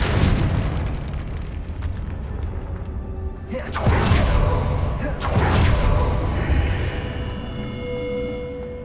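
The Confringo fire spell explodes in the video game Hogwarts Legacy, two loud booming bursts rolling out over ambient game sound.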